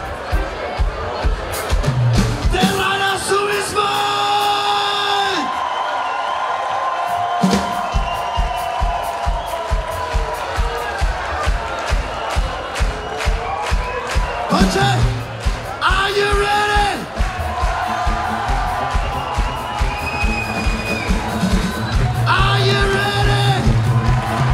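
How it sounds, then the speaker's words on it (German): A crowd at a rock concert yells, whoops and cheers over ongoing music, loud and close, while someone shouts to the audience through the PA. "bitte nochmal einen ganz, ganz einen Riesenapplaus"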